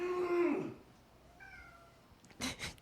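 A cat gives a loud, drawn-out meow, followed by a fainter higher call and then two short, sharp cries.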